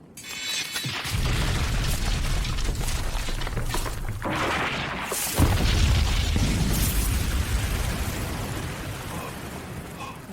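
A huge anime magic blast, the Hell Flare spell, erupts as a dense, loud roaring explosion, with a second heavy burst midway that rumbles on and slowly fades.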